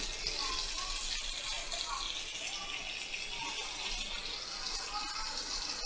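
Cumin seeds tempering in hot oil give a continuous, even sizzling hiss at moderate volume, steady from start to finish with no sharp breaks.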